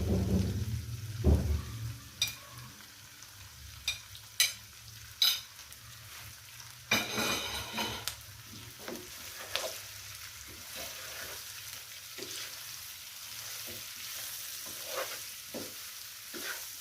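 Vegetables including capsicum and cabbage being stir-fried in a pan for Chinese fried rice, a soft steady sizzle broken by repeated scraping and clattering strokes of the spatula, fairly quiet overall.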